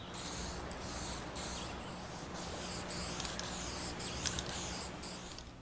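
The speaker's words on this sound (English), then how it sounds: "A quick coat of gold lacquer and a glossy clear coat should give this a fresh look" Gold lacquer and clear coat are sprayed onto drawer pulls in faint, repeated short hissing bursts at a steady pace, heard close and quiet with no talking.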